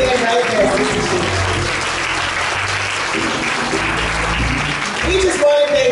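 A church congregation at a Baptist service claps and cheers in sustained, dense applause, loud and close throughout, with voices mixed into the crowd noise.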